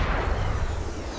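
A heavy, booming sniper rifle shot in Sniper Elite 4, a loud dense blast with a rumbling tail filling the whole moment.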